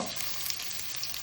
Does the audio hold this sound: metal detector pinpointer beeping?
no